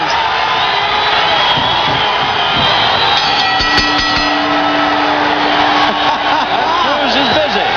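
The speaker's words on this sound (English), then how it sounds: "The crowd has come alive." A packed boxing arena crowd at the Forum roars and cheers steadily through the whole stretch, dense and loud, with scattered whoops rising out of the din and commentary faintly mixed beneath.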